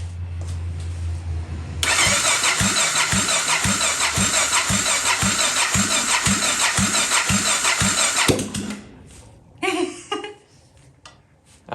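A Honda NX650 Dominator single-cylinder motorcycle, just rebuilt, cranks rhythmically with a starter for several seconds under a loud hiss, then stops, followed by brief sputtering catches of the engine, close and loud.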